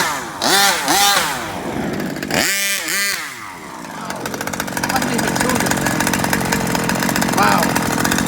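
A Rovan Baja 45cc gas-powered RC car engine revs loudly in repeated rising bursts, then settles into a steady buzzing run with people talking over it.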